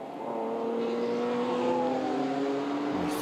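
Race cars in a 2015 Euroseries race at Spa-Francorchamps, Belgium, sweeping around La Source and downhill toward Eau Rouge, engines droning loudly and steadily with a rising, shifting pitch as they pass, with no talk.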